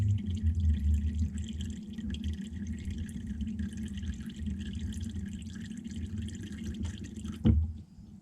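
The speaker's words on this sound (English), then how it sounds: "I'll normally leave the oil to drain for around 5 minutes or so." Engine oil drains from a Ford Fiesta XR4 ST150 oil pan, a faint, steady trickling and dripping into a container, with one sharper splash near the end.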